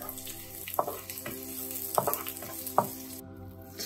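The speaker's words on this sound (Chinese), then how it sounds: "放入大约是一汤匙的食用油，先爆香姜片" Sliced ginger and chopped shallots fry in about a tablespoon of cooking oil, making a moderate, even sizzle broken by occasional crisp pops and spatula clinks, with no voices.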